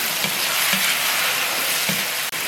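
Pork liver stir-frying with green and red chillies and onion in hot oil, a steady loud sizzle broken by a few soft scraping stirs of the spatula, no voices.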